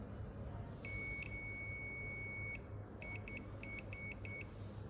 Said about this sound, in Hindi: देखिए बीप की आवाज़ आ रही है